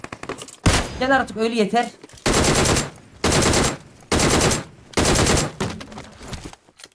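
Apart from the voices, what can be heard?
DP-28 machine gun firing in PUBG Mobile video game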